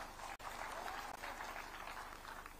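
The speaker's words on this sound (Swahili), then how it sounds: "Wapigie makofi hao watu." A crowd at an outdoor political gathering in Igembe South, Meru, applauds for a board, a dense continuous wash of clapping that sounds somewhat distant and low in level, steady throughout with no voices.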